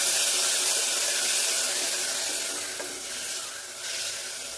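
Ground mint paste fries in a pan for a pudina bath, giving a loud, steady sizzle with a dense spitting hiss that eases slightly midway and is stirred now and then, with no voices.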